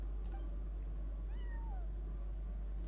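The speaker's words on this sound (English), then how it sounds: "No one except for a cat watching over the front desk." A faint cat meow in the video game Genshin Impact, a couple of soft, brief gliding cries heard over a constant low background hum.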